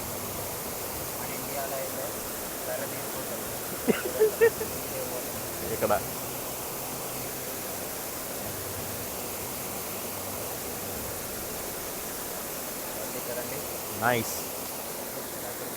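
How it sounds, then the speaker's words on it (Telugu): A small waterfall beside a country road near Bath gives a steady, broad rushing wash. A voice speaks briefly partway through, and a few short knocks sound over the constant flow. "ఇదిగోండి చూడండి, బ్యూటిఫుల్ స్మాల్ వాటర్ ఫాల్స్ని చూడటానికి"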